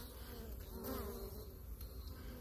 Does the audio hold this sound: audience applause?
no